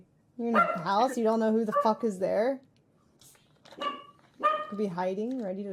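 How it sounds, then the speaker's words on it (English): A dog barks repeatedly inside a house in loud, yipping bursts that overlap with a voice talking close by. "The dog knows, that's why it's barking."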